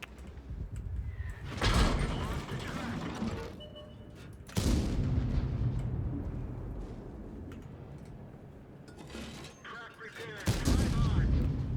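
Tank cannons boom in World of Tanks during a tier 10 medium match in the 121B, with three loud, heavy blasts spread apart and rumbling battle noise in between.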